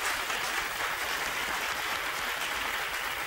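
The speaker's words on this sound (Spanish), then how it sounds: "Y va el segundo aplauso para Juan Francisco." Studio audience applause for a contestant on a Spanish television quiz show, a steady, even wash of many hands clapping with no pauses or voices.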